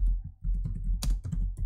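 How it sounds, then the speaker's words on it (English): Computer keyboard keys clatter in a quick run of close, crisp clicks, ending with a sharper, louder keypress like a Shift and Enter combination. "we press Shift Enter on the keyboard"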